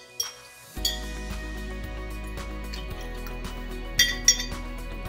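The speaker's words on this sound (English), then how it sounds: "Now I'm going to mix it." A utensil clinks against a glass jar while stirring food coloring into water, a few light, close taps and scrapes at an irregular pace over a quiet hum.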